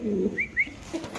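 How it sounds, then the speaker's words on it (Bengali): A pair of pigeons at a pigeon farm gives a brief, close, soft coo with a couple of short whistly notes, heard alone in just over a second. "তো দর্শক এখানে আছে আরেক পেয়ার কবুতর"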